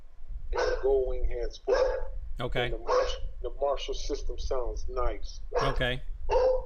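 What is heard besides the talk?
dog barking in the background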